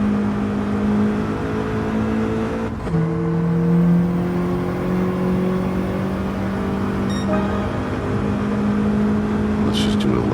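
Engine of a car lapping a racing video game played on a PS5 with a DualSense Edge controller, a steady droning hum with rising and falling pitch and a gear-shift dip partway through, continuous and fairly loud.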